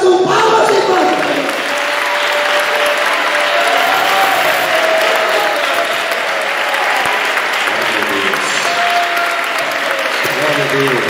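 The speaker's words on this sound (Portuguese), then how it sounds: "Vocês vão parar de bater palmas só quando ele disser amém." A church congregation applauds loudly and continuously, with dense sustained clapping from a large crowd and voices mixed into it.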